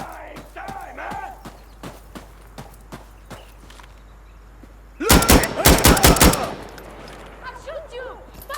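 AKM rifle fire in the video game Insurgency Sandstorm: a loud burst of rapid automatic shots cracks out after a quieter stretch of footsteps and clatter, with voices heard before it.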